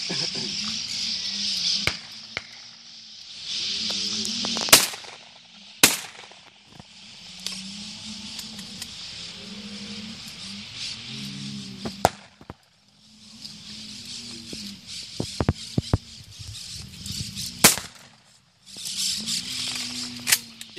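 Shotguns fire on an Argentina dove hunt, sharp isolated cracks scattered at irregular intervals, some close and loud, others farther off, over outdoor ambience with people talking.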